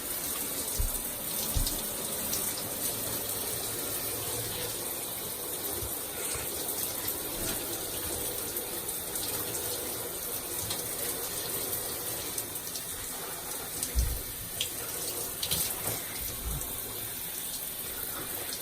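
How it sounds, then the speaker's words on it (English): Steady running water from a tap, splashing and gushing continuously while box braids are washed at a sink, with a few louder splashes and thumps along the way. "Wash the hair good"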